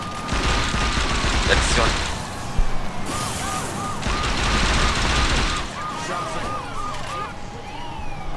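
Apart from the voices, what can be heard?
gunfire from shooting people in a video game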